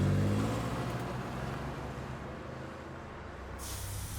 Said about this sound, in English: I get into the car and drive off.